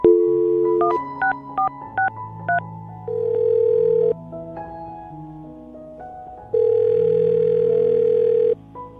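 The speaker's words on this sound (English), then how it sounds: "I'm going to dial the phone number right now." A rapid string of telephone keypad tones beeps out, followed by steady dial tones and a ringing signal, clear and close.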